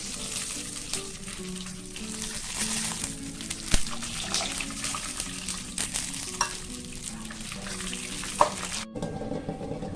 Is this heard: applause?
no